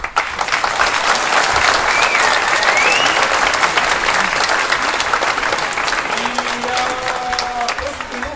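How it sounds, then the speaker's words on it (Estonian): Sustained applause from an audience at a live event in Estonia, dense and steady clapping throughout, fairly loud and close, with faint voices mixed in toward the end. "ma palun talle küll eraldi aplausi kohe"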